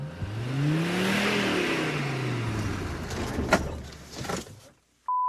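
Mercedes G-Wagon engine revs, rising and falling in pitch with a few mechanical clunks, loud and close, before cutting off abruptly.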